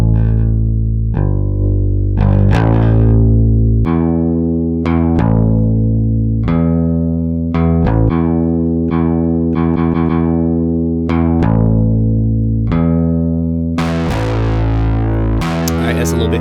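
Bass guitar played through an MPC X with AIR Tube Drive saturation, a fuzzy distorted line of sustained notes and slides with a crunchier burst near the end, loud and upfront with no talking.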